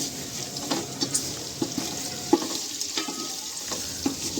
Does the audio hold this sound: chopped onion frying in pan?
yes